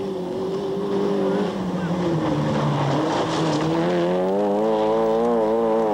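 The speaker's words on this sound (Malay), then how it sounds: "Dapat kita perhatikan sebentar tadi Jimmy Low memandu dengan penuh keyakinan." Rally car engine on a stage of the 1997 Malaysian Rally Championship in Selangor, revving loudly and steadily with rising and falling pitch as it accelerates and shifts, close and continuous, with faint commentary underneath.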